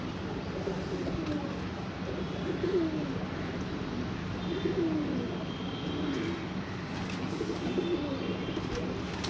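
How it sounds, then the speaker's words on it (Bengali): A pigeon coos at the base of a mango tree, its low, repeated coo phrases rolling steadily through the whole stretch over a constant outdoor hum. "একটা পায়রা ঢুকে গেছে আম গাছের গোড়ায় একদম"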